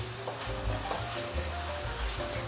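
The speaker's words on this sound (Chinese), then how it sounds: "把马铃薯和红萝卜炒成焦黄色" Potato and carrot pieces crackle and sizzle in hot oil while being stir-fried toward golden brown, a close, steady hiss with intermittent sharper pops and scraping from the turning.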